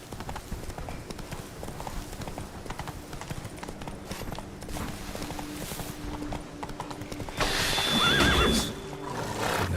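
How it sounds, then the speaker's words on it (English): Rapid rhythmic hoofbeats of a galloping horse in The Witcher 3: Blood and Wine, steady and close, with a horse whinnying loudly near the end. "And get on the horse."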